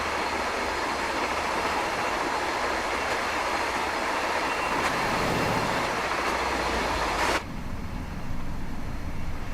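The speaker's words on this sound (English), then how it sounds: "I think the train sounds really nice." A train in Train Sim World 5 runs on the Dutch Zwolle–Groningen line with a loud, continuous rumble of wheels and motor, steady throughout before an abrupt drop in level near the end.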